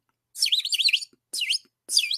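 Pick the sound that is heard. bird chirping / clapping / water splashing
bird chirping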